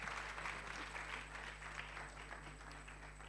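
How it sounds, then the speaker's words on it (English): Moderate audience applause at a youth conference session as a speaker leaves the stage, a dense continuous patter heard with some distance alongside a steady electrical hum. "Another round of applause as she leaves the stage."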